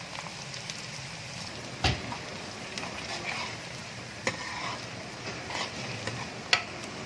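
Sliced onions sizzle softly in a pan for a Punjabi-style potato and moong dal curry, a steady low frying hiss broken by occasional sharp clicks and scrapes of a spoon stirring.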